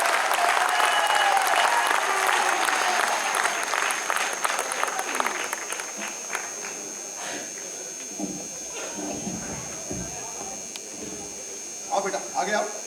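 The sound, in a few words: loud audience applause at a poetry gathering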